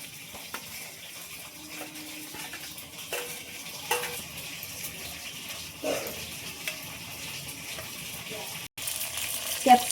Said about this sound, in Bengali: ওই তেলের মধ্যে ক্যাপসিকামগুলো ভেজে নেব